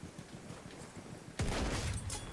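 Gewehr 95 rifle fire in the video game Battlefield 1: faint distant battle noise at first, then a sudden loud report that swells into sustained gunfire and rumble for the remaining second.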